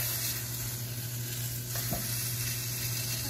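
A hamburger patty fries in a pan, giving a steady, close sizzle that runs throughout with a faint scrape or two and no talking.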